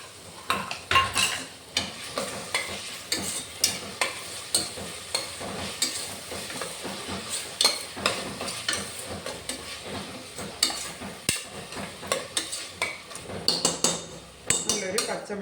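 Crushed ginger and green chilli stirred and fried in a pan while cooking egg biryani: a busy spoon scraping and clattering against metal over a steady sizzle, close by, with brief speech mixed in.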